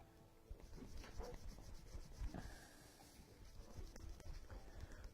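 Leather for a briefcase is being sanded with steady, repetitive rubbing strokes, soft and close with a rasping texture, heard on its own without talk.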